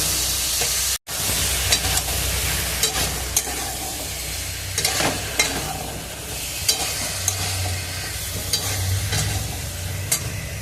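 Pre-cut potatoes are stirred into hot spiced oil for a Bengali spiced chana dal, frying with a steady close sizzle and scraping stir strokes throughout, apart from a momentary dropout near the start.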